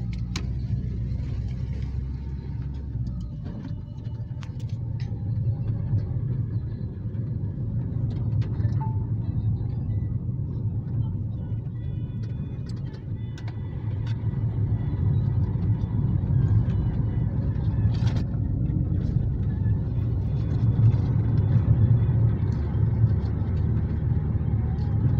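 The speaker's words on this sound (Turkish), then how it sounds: "Çekici koca kamyonu yüklemiş arabanın üzerine." A tow truck on a highway out of Erzurum hauling a large loaded lorry on its bed gives a steady, close road rumble of engine and tyres that builds slightly over time, with no talking.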